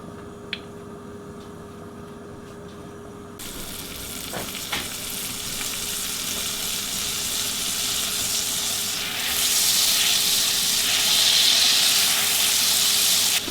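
Mushrooms and onion drop into a hot pan with gravy makings for Salisbury steak, starting a close, steady sizzle that grows louder and hissier as they cook, with a few clinks of stirring.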